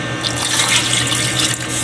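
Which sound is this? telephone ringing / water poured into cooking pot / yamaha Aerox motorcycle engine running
water poured into cooking pot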